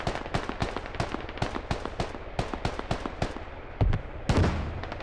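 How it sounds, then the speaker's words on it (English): Squad video game gunfire on the Yehorivka map: a string of sharp rifle shots, some in quick pairs and bursts with a few irregular gaps, ending in a couple of louder, heavier blasts with a rumbling tail. "They shoot through the fence in towards the camp."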